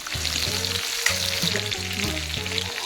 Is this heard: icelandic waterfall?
no